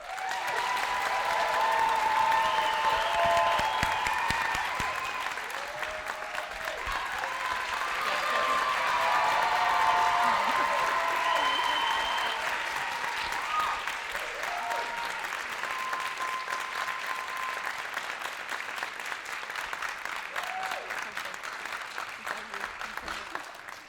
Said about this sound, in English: giving Shione a huge round of applause